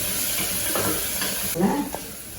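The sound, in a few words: vegetables sautéing in pan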